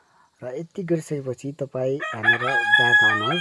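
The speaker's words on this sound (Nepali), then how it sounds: "ब्याकग्राउन्डमा मिठो भालेको बासेको छ साथीहरू" A rooster crows in the background, its drawn-out call rising near the end while a person talks steadily over it in the foreground.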